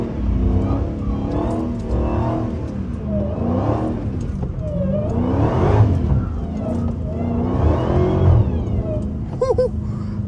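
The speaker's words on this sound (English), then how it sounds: "I got to start out with a burnout." A Dodge Hellcat revs hard through a burnout on a wet road, its engine roaring and rising and falling in steady surges with a whirring drone, loud and close throughout.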